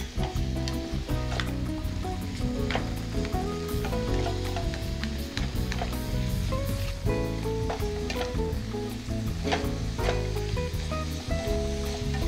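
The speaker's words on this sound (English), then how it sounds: "Hear that sizzle?" Green pepper sizzles steadily in a hot pan for the whole stretch, a soft constant hiss under strong tonal background music, with no talking.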